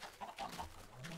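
Minecraft chickens give several soft, quick clucks in a row, fairly faint and alone without speech.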